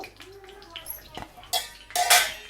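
A metal lid clatters down onto a paddu pan in two bright, ringing clanks near the end, after softer kitchen clinks and a voice.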